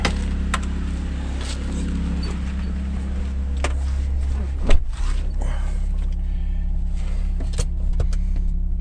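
A 1992 Honda Accord, recently repaired for an intake leak, drives along with a steady low engine drone and road rumble throughout, plus a few brief clicks and knocks and a sharper thump midway.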